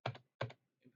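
Key presses on a computer keyboard, the Enter key struck in a quiet room: two crisp, close clicks about a third of a second apart, followed by a softer, fainter tap.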